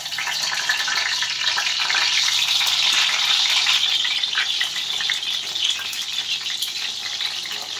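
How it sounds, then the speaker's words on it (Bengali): Eggplant pieces coated in salt and turmeric sizzle steadily in hot oil in a home kitchen, a close, continuous bright crackle and hiss with no talk over it. "তেল গরম হলেই এতে আমরা দিয়ে দেব এই নুন আর হলুদ মাখানো বেগুন"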